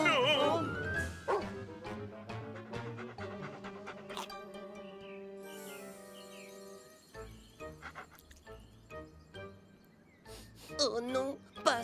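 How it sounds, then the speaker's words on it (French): Cartoon dog barking, yipping and whimpering in short bursts, up close, mixed with excited character voices and background music in an animated bear series. "Gentil le chien"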